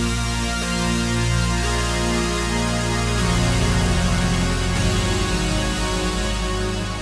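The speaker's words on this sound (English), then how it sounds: "This is the sound of a very nice synthesizer going through a very nice reverb" Sustained synthesizer chords ring through an Eventide reverb with the SPL BiG bypassed, a dense, wide, continuous wash of tone that shifts to a new chord partway through and stays loud with no voices.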